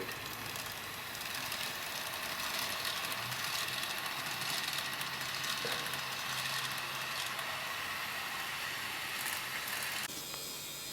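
An N gauge model freight locomotive, EWS class 92, runs along a layout with a steady, soft mechanical whir and light rattling clicks that stay close and even for several seconds, with no talk.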